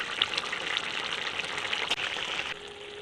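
A bitter gourd dish with poppy seed and mustard simmers in a pan as its water dries off, giving a soft, continuous bubbling sizzle with faint spatters, steady and close throughout.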